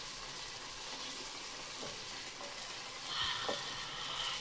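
Onions sizzle steadily in a pan for a potato fry, with soft scraping stirs and a couple of louder clinks of the spoon near the end; no one speaks.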